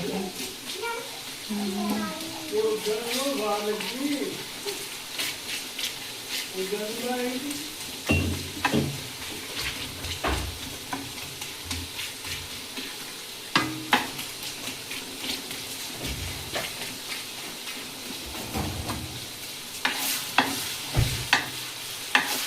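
Onions fry in a pan, a steady sizzle broken by sharp stirring scrapes and clatters, with voices talking over it early on.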